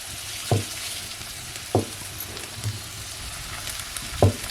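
Potato slices sizzling in a little oil on an iron griddle, a steady soft frying hiss broken by a few sharp scrapes or stirs spaced about a second apart, with no voices.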